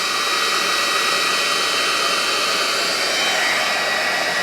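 A GHD Duet wet-to-dry hair styler runs continuously with a loud, steady airflow hiss and whine, close up and unbroken for the whole stretch.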